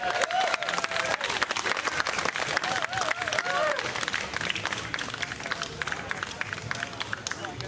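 Sustained audience applause with cheering at a memorial tribute concert, dense, steady clapping from a crowd filling the room, with voices calling out among the hands.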